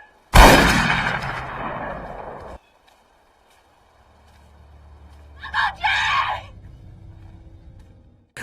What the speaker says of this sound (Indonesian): Graham langsung menembak mati paman Jonathan